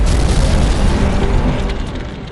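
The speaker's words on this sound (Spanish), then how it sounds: "hay una explosión." Explosion of a Boeing 747 airliner, TWA Flight 800, climbing over the Atlantic: a loud, sustained roaring boom with deep rumbling that fills the clip and slowly eases off, with no voices.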